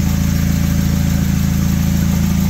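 Honda K-series engine run on FuelTech in a Mk4 car, a loud, close, steady engine drone with a fast pulsing beat, holding an even speed.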